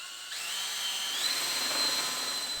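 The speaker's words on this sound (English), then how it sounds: "We then marked up the centre of each dowel and drilled a pilot hole for the wood screw." Power drill boring a pilot hole for a wood screw into the centre of a 1 1/4 inch wooden dowel, a close, steady whine that starts abruptly and holds for about two seconds with a slight rise in pitch.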